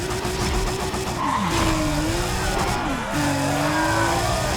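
A car engine in the video game Need for Speed ProStreet drones steadily with pitch sweeps as it shifts and revs, and tires screech through skids, loud and continuous with no pauses.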